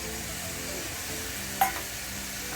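Chopped tomato with peas sizzles gently in a pan as it is stirred, a soft continuous frying hiss broken by one sharp utensil tap, close up with no talking.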